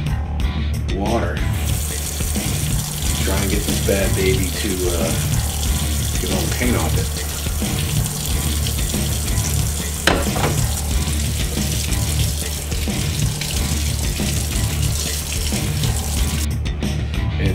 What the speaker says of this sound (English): run it under the sink and see if we can get all the paint off that